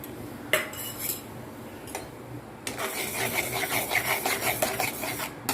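Masala being stirred in a hot kadhai before fish is added, a metal spoon scraping and rasping against the pan, a few sharp clinks and then a rapid continuous scraping rhythm, close and fairly loud.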